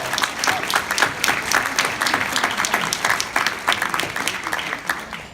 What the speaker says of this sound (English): Give a round of applause for Tony Coelho.